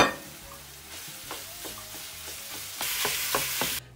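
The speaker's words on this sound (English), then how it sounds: "add the garlic, as well as your turkey. Make sure to break all that turkey up" Ground turkey, garlic and onions frying in a pan, a continuous sizzle with repeated scraping strokes as the meat is broken up, swelling louder near the end before cutting off abruptly; no voices.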